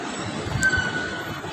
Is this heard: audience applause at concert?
no